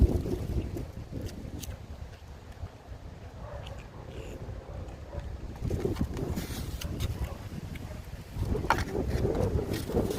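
Wind blowing outdoors in a park, a steady rushing gust noise buffeting the microphone throughout, swelling louder near the end.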